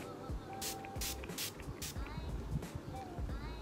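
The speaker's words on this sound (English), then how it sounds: "I guna facial mist, brightening face mist from Elianto" Several short bursts of an Elianto brightening facial mist being sprayed, quick hissy puffs spaced about half a second apart, fairly quiet against faint background noise.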